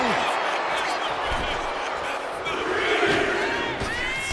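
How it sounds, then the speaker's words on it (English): A wrestling arena crowd roars and cheers continuously inside WWE 2K25 as Roman Reigns fights Seth Rollins, a loud dense wash of voices with a commentator talking over it. "However you feel about Seth Rollins, he knows how to get the crowd going"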